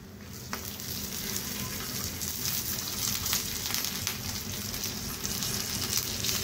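Garlic and ginger sizzle steadily in a pan with roasted spices for Kolhapuri misal, a continuous close frying crackle with occasional soft stirring scrapes and no voices.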